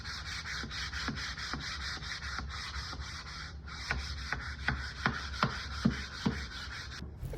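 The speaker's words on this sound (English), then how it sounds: "I gave everything a once over with a 240 grit sandpaper to smooth out any bumps" Rhythmic back-and-forth rasping of 240-grit sandpaper on wood, close and steady, with regular strokes roughly every half second and no talking.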